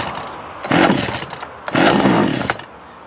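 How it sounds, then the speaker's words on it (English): A small engine with the choke on is pull-started twice, each pull giving a loud, rough burst of sputtering cranking that does not catch, close and alone. "I pull the choke, and I pull start it until I can hear it almost fire."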